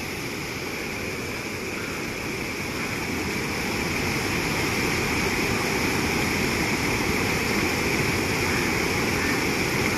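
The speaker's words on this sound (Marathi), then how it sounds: "तर ह्या धबधब्याला तुम्ही कधी भेट देणार?" Steady broadband rush of a river waterfall where people immerse Ganesh idols and small temples stand in the water, a continuous roar with no talk and no breaks.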